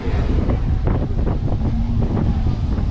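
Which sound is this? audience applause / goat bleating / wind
wind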